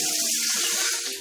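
A hotel shower in a Lusaka lodge bathroom runs in a steady, close hiss of falling water that fades slightly at the end.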